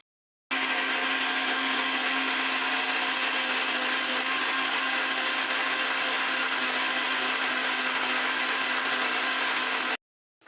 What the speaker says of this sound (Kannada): ಇವಾಗ ಅದನ್ನು ಮಸಾಲ ರುಬ್ಕೊಳ್ಳೋಣ.